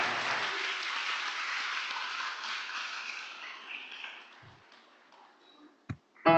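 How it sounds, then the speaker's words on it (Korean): An audience at a Korean religious gathering applauds as a choir walks onto the stage, steady clapping that gradually fades out, followed by a few sharp knocks and a brief tone near the end. "무대에 모실 때 박수 부탁드리겠습니다."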